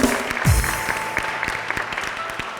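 A studio audience at a talk show claps in a moderate burst of applause with a few sharper, distinct claps and a brief sliding tone near the start.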